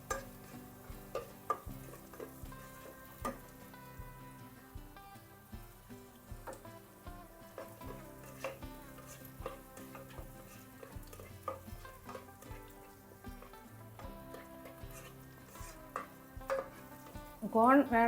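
Chopped onion and corn sautéing in a pan for garlic mushroom rice, a soft continuous sizzle with light stirring scrapes and clinks, fairly quiet.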